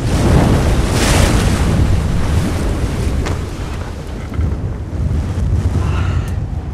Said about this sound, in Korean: 칼바람이 세구먼. 다 날아가겠네.